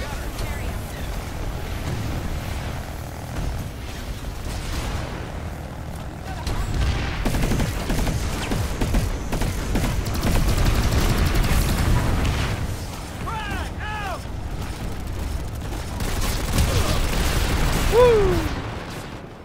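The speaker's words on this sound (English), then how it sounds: "What's everyone shooting at?" Gunfire in the Planetside 2 video game sounds as a dense, continuous clatter of shots and booms, loud and close, with mechanical whines and rumbling battle noise layered through.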